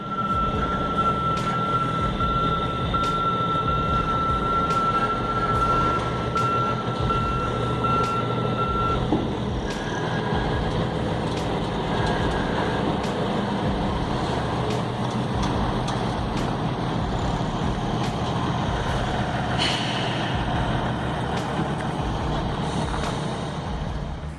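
A massive oversized heavy truck, a Ural, drives with a loud constant engine roar and rumble, a steady tone and scattered clanks over it, no talk.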